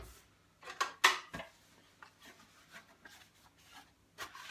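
A towel rubs dry Green Star Elite juicer parts, with soft irregular swipes and rasps, a couple of louder scrubs near the start and quieter rubbing after, close by with no talk.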